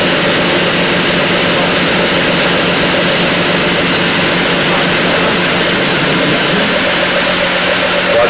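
A bias sewing unit with a tensionless automatic unwind runs steadily, giving a loud, continuous mechanical whir and hum that holds an even level throughout.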